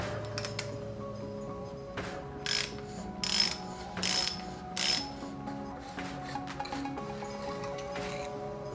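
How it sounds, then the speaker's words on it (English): Ridea carbon bottom bracket cups being unscrewed with a BB tool on a Brompton T Line, giving repeated ratcheting clicks and metallic clinks in short bursts, close and moderately loud, with no talking. "Now we can remove the Ridea carbon bottom bracket using the BB tool."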